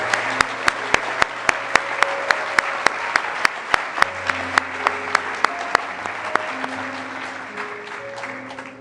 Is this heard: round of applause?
yes